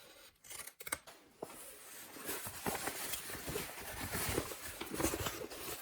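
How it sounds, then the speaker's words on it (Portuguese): Pinking shears snip through fabric around the curves of a bag, a run of close, crisp crunching cuts with short pauses between, quiet and without speech. "eu passo a tesoura de picotar aqui nas curvas, somente para dar uma arredondada."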